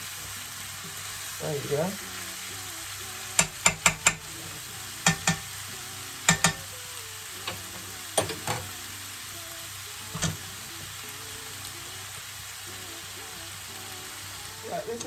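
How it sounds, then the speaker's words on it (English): Smoked turkey and mushroom stew simmers and sizzles steadily in a pan over turned-down heat, with sharp clinks and stirring knocks of a utensil against the pan scattered throughout and a brief voice speaking near the start. "I'm going to turn the heat down and let that cook down for about 5 minutes"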